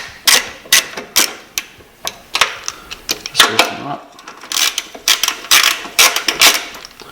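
A ratchet turns the 12 mm top bolts of a coilover on a Scion FR-S/Subaru BRZ, close, sharp clicking bursts in quick irregular runs with short pauses between strokes.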